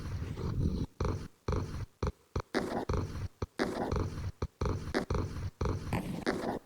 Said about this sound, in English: So we have normal purr here.